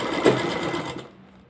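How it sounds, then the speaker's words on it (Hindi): A sewing machine runs steadily, stitching piping along the edge of a garment neckline, a continuous close whir that winds down and stops near the end. "और फिर हम इसमें किनारे किनारे सिलाई लगा लेंगे"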